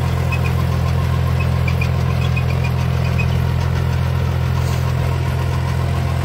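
A 50-50 D tractor working in second gear, its engine giving a loud, steady low rumble with a knocking pulse throughout and no pauses.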